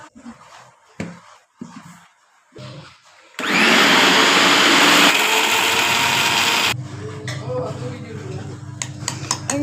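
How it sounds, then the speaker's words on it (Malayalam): A kitchen mixer grinder whirs loudly and steadily as it grinds dried chillies and garlic with tamarind water and salt, a dense motor roar lasting a few seconds after quieter handling clatter, then a lower hum as it runs down. "എന്നിട്ട് മിക്സി അരക്കുക."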